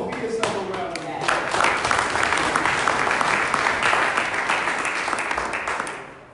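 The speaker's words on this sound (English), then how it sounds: "give yourself a round of applause" Audience applause in a gathering hall, a loud, close burst of many people clapping that builds quickly, stays full for several seconds and then tapers off.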